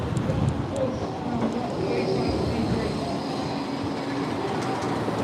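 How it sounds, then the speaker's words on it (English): A tram passes close by on a Blackpool street, a steady low rumble that persists for a few seconds over the general seaside street noise. "Just getting away from the tram track, there's a tram coming."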